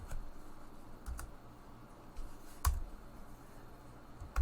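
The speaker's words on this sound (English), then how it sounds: "I'll start typing." Computer keyboard typing while entering text in an image editor: quiet, irregular key clicks scattered across the clip, with a few sharper, louder taps standing out against a faint background.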